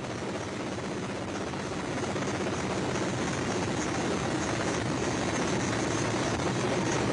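A search and recovery helicopter flies near a Soyuz spacecraft landing site, its rotor and engine roar steady, loud and close throughout.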